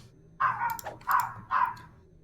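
A dog barking outside in a neighborhood, three sharp barks in quick succession, moderately loud against a quiet room.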